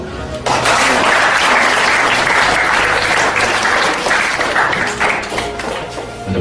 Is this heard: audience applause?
yes